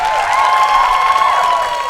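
An audience at a street dance competition final applauds a team's dance performance, a dense, even burst of clapping and cheering that is loud and sustained for the short stretch.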